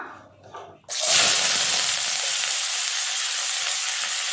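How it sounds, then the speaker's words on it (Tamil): Shallots and curry leaves hit hot oil with a sudden loud sizzle that settles into steady frying, following a brief moment of quiet talk. "சேர்த்துட்டு நல்லா வதக்கிடலாம்"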